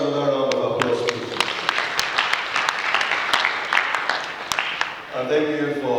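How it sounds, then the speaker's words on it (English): An audience at a health conference session breaks into applause after a doctor's presentation, a dense, sustained clapping lasting several seconds, with a speaker's voice heard before and after. "I think he deserves another round of applause,"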